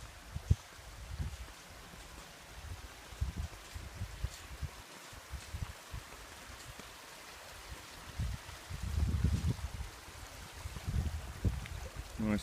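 A drinking-water creek flows near a one-person suspension bridge on a mountain walking track, giving a steady, moderately loud rush and trickle with a few thumps and rustles close by.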